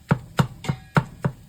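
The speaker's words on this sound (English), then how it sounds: "it's the best tool I've found to use" A chopper tool breaks up ground beef in a pan for vegetable beef soup, making five sharp, evenly spaced thuds alone.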